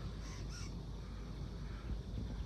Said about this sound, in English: I was trying to film the birds that are in that tree